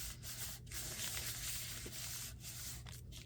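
An inked rubber stamp pressed onto paper is rubbed down by hand during card making, giving a steady, close scuffing rasp that runs unbroken for a few seconds with no talking.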